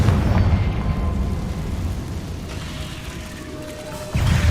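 A Confringo blasting spell in Hogwarts Legacy lets out a loud rumbling blast that decays over a few seconds, followed by a fresh burst near the end, with no voices.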